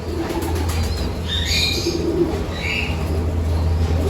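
Pigeons in a loft where young squabs flap their wings, with soft cooing and fluttering over a steady low hum, close and continuous.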